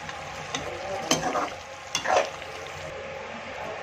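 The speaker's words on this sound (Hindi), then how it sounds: "और इसको अच्छे से इसकी भुनाई कर लेंगे।" Chicken green karahi masala is stir-fried in a wok, with a soft continuous sizzle under scraping strokes of a spatula and a couple of louder scrapes, close by and without voices.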